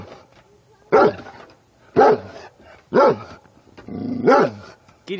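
A 75-pound dog barks at a praying mantis, giving five sharp, loud, close barks spaced about a second apart, with a low growl between them.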